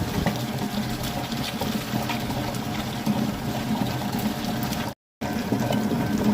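A mixer grinder whirs steadily and loudly as it grinds Goan fish fry masala paste with water, a continuous droning churn with no pauses or voices.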